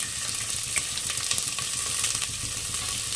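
Onions sizzling steadily in a pan with salt added, a continuous bright frying hiss with small crackles, close and even throughout.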